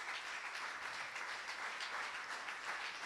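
A church congregation applauds steadily throughout a Sunday service, a dense, even wash of clapping from a crowd, with no single claps standing out.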